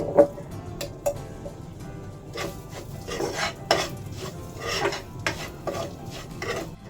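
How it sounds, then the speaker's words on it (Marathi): Semolina frying in ghee while being stirred in a pan, with repeated scraping and clinking of a utensil against the metal at close range, irregular strokes throughout and no voices. "चांगला ब्राऊन होईपर्यंत रवा आपल्याला फ्राय करून घ्यायचा"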